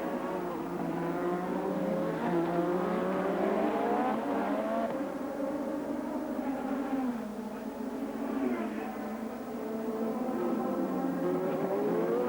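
Formula 1 race cars at the 1987 Monaco Grand Prix in Monte-Carlo give a sustained, high-pitched engine wail that rises and falls as they run close together. The sound stays fairly loud throughout.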